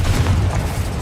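A Confringo spell blast in Hogwarts Legacy, a loud booming explosion with a deep rumbling burst that fills the whole moment, close and alone with no talk.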